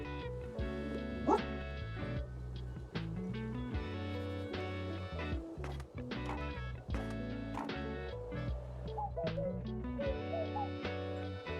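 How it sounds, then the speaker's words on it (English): A dog barks and yips in the video game Tiny Bookshop, several short barks over continuous music that dominates the mix. "Such a good dog."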